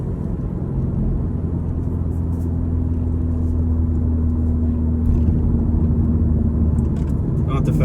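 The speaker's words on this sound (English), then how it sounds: "Got some outside exhaust clips, flybys" A 2024 Subaru WRX with an AWE exhaust gives a deep, steady low rumble that holds loud for several seconds, a close, continuous boxer-engine drone with little change in pitch.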